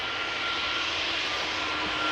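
An Airbus A321neo arriving from Montreal at Amsterdam Schiphol gives a brief, steady jet engine hum, faint and distant, with no voices.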